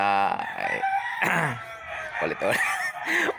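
Rooster crowing among chickens at a Filipino seller's place where the birds are offered for sale, a loud drawn-out crow rising over clucking with people talking nearby.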